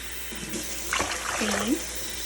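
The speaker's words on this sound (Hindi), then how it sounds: "चले जी, 4 कप पानी डालेंगे" Water pouring from a cup into a pot of rice for jaggery rice, a brief splashing gush over steady background hiss, close and moderate.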